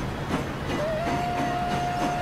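A diesel train runs in the Transport Fever video game, a steady rolling rumble with faint rhythmic wheel clacks and a sustained tonal whine drawn out over the top, continuous and without talk.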